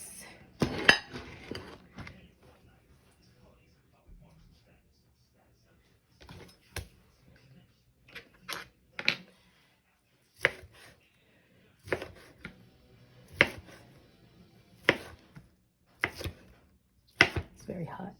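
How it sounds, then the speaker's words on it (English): Knife cutting cooked jerk pork chops on a board: a string of separate sharp knocks and clinks, spaced irregularly with quiet gaps between, close by. "cut up our pork chops."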